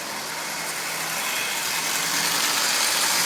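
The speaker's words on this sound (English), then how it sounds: "It's actually running quite well. And this locomotive is really fast." A toy locomotive built from an old Lionel 8902 shell and a Marx single reduction motor runs fast with a steady, close, broadband whirring hum that builds slightly louder over the few seconds, with no talking.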